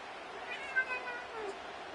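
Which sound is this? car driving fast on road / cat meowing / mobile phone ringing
cat meowing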